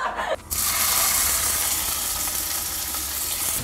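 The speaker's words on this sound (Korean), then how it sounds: "베이컨 구워줘야겠다" Bacon sizzles loudly in a hot pan, a bright hissing crackle that starts abruptly after a brief clatter and continues steadily close up.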